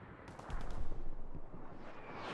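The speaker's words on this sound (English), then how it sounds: "the artillery is coming down" Artillery fire in the World War II shooter game Hell Let Loose, on the Utah Beach map, booms as a burst of rumbling blasts that swell and fade over a couple of seconds, with no voices.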